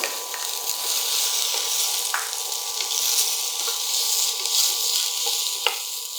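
Onion pieces frying in ghee with curry leaves, mustard seeds and cumin, a soft, even hiss of sizzling fat with occasional small pops and stirring ticks, steady throughout without speech.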